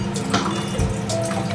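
Water pours into a bowl of batter mix for fish and chips, a steady splashing trickle close by, running on without break and heard alone with no talk.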